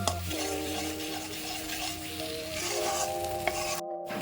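Ridge gourd paste with shrimp stirred and fried in a pan, a steady close sizzle with scraping stirs and a brief utensil clink near the end, no talking.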